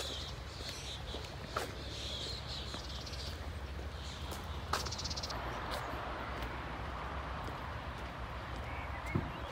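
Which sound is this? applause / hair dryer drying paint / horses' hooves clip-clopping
horses' hooves clip-clopping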